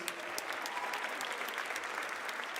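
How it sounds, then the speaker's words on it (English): A crowd at a Baltimore mayoral inauguration ceremony applauds in a thick, even roar of clapping, steady and distant-sounding for the whole stretch. "Let's give him another round of applause, please"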